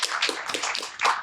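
An audience cheers and claps for the dads at a family anniversary live event, a dense burst of applause and crowd noise that swells again near the end.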